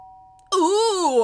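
A doorbell chimes in a video game, entering abruptly after near-silence as a loud, sustained two-tone ring that wavers and holds to the end.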